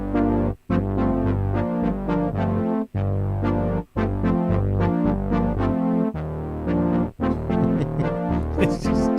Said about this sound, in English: A1. This was called Brass Ensemble